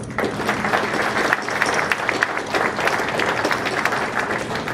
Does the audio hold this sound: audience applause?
yes